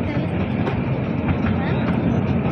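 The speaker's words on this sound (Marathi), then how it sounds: "आमची झाली ट्रेन चालू." A toy-style ride train at an amusement park in Nerul, Mumbai, starts moving with a loud, steady rumble and rattle of cars, heard from on board while people talk over it.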